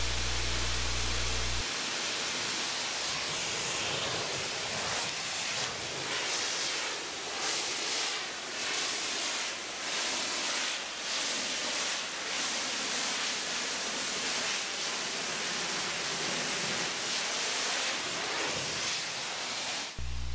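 A truck washing machine sprays rinse water in a continuous hiss and rush, like steady surf. The sound holds fairly even, faint to moderate, with no voices.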